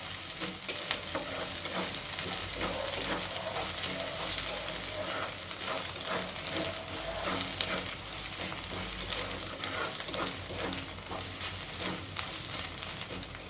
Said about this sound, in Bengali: যে নারকেল পাউডারটা রেখেছিলাম সেই পাউডারটা ভালো করে একটুখানি নাড়াচাড়া করে একটু লাল লাল করে নেব